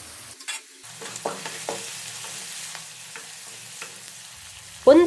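Chopped onion fries in oil with a soft, steady sizzle, broken by a few spoon scrapes and clicks against the pan and a sharp clatter at the end.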